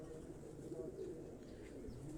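Pigeons kept at a home loft in Quetta coo softly and steadily for a couple of seconds, a low continuous murmur close by with no talk over it.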